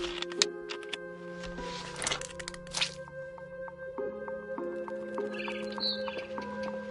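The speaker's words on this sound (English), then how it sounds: "Then I heard chirping outside my window." Birds chirp outside a window in the game What Remains of Edith Finch, their short calls scattered lightly over sustained tonal music and occasional clicks and cracks.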